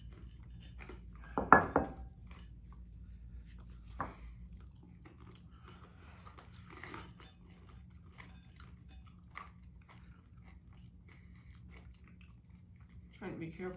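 Someone chews spicy toffee-coated nuts close to the microphone, with a crunchy burst early on and then quieter, intermittent chewing, with short bits of speech and small clicks throughout.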